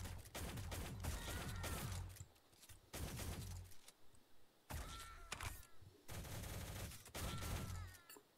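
Bursts of rapid gunfire fill the online shooter game Shell Shockers, loud volleys of shots coming in clusters with brief pauses between them and no talking over the action.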